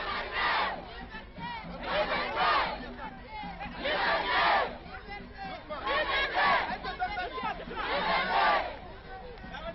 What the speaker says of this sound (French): Toute la journée, nous verrons des manifestants venir l'acclamer, lui et ses camarades